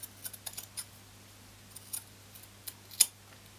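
Scissors snip away excess fabric and loose threads on a handmade lolita wrist cuff, a few quiet, scattered cuts with one sharper clip near the end, in a quiet room.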